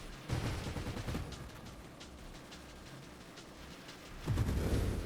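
Rapid projectile fire in the space shooter game Nova Drift, a dense crackling burst that opens the clip, eases into a quieter rumbling stretch, then surges again near the end.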